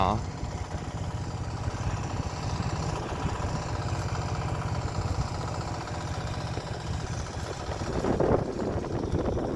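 Power tiller engine driving a water pump to irrigate a garlic field outdoors, a steady rhythmic chugging engine that runs continuously and fairly close, with slight wind noise.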